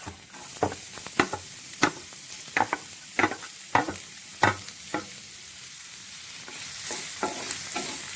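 Chopped onion sizzles in a frying pan, with a steady hiss broken by regular sharp scrapes and knocks of a spatula stirring, close and clear with no voices.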